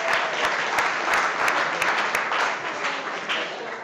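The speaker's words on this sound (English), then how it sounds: "So big round of applause for Streaming Star Pros as well." An audience at a live chef competition event claps in a warm, sustained round of applause, dense and close, with a few sharper individual claps standing out.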